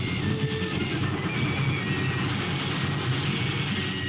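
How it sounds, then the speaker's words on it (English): A steady, dense rumble of a moving train, continuous broadband roar with rattling undertones throughout, no voices. "Stop the train!"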